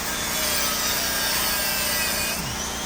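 An angle grinder cuts steadily through a vehicle's metal frame to prepare a welded frame patch, a loud, close, continuous abrasive whine and roar without pause.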